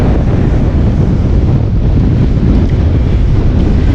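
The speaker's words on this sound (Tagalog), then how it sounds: "ang lakas ng hangin" Strong wind roars steadily across the microphone while fishing at sea, a loud continuous low rumble with no pauses and no voices.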